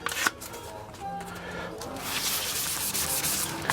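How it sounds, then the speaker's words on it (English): Hand sanding with 320 grit sandpaper over a Gluboost pore-filled wood surface, a soft steady rubbing hiss that fills most of the moment, close and moderately loud. "And I go back with the 320 sandpaper."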